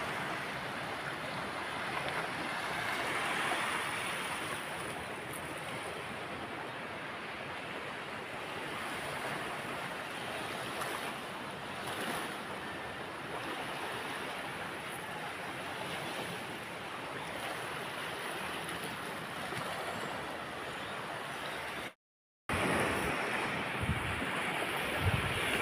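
Wind and waves roll steadily at sea during the southwest monsoon, a continuous broad roar of surf and gusting wind across the microphone, with a brief dropout near the end.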